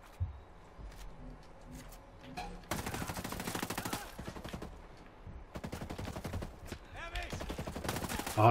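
Gunfire from the tactical shooter Ghost Recon Breakpoint comes in sharp single shots, then sustained automatic bursts in several loud volleys separated by brief pauses, with faint ambient game sound in between.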